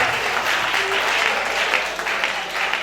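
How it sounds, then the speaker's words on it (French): Audience applause at a talent competition semi-final results show, a dense, steady clapping from a crowd filling the whole stretch at even loudness. "Applaudissez pour lui déjà,"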